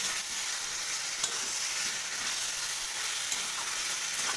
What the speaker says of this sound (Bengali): এবার ভেজে রাখা আলু পটলগুলি খুব ভালো করে আমি মশলার সঙ্গে আরও একবার মিশিয়ে ভেজে নেব।